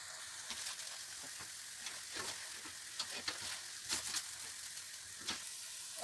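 Grated carrot roasting in desi ghee for gajar khoya barfi, a steady close sizzle with repeated scraping stirs and soft clinks throughout, no voices.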